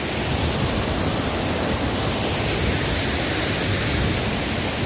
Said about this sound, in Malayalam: അപ്പോൾ നമ്മളിത് ചീയപ്പാറ വെള്ളച്ചാട്ടത്തിൽ എത്തിയിട്ടുണ്ട്